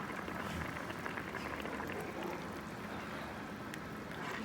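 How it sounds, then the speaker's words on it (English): Light soup with smoked herring boiling on a fire, a steady, dense bubbling and hissing that stays even and fairly loud throughout without pause. "it's beautifully boiling."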